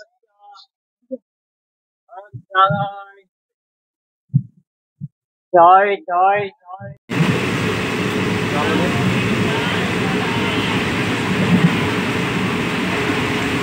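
The Howrah–Rampurhat Shahid Express pulls into Rampurhat station; after a stretch of a voice in near silence, a loud, sustained rumble of the rolling train takes over and continues steadily.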